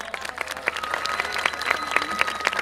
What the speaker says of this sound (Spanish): así que un fuerte aplauso en el sonido de sala.